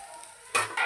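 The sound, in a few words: ginger garlic paste frying in hot oil for chicken curry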